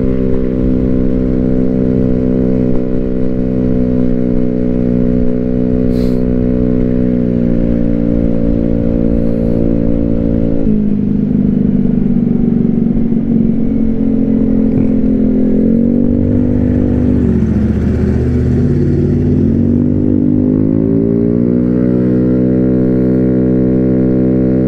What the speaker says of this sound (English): You guys can hear the engine at least a little bit. Definitely louder than a normal scooter.